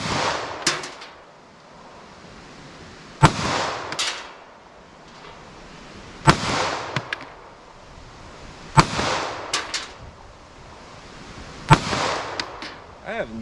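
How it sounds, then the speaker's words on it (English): Five sharp 9mm pistol shots from a Taurus G2C with a 3.2 inch barrel, fired at steady intervals of a few seconds outdoors, each crack followed by a short echo and faint ringing of steel targets. "Let me try some more 9mm, but in my Taurus G2C."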